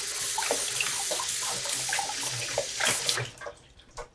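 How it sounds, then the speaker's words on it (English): A cocktail jigger with leftover coconut cream is rinsed under a running kitchen tap, giving a steady close hiss of water with splashes and spatters that fade out near the end. "I like look into this jigger and it's not very clean. So I'm going to clean this for one sec."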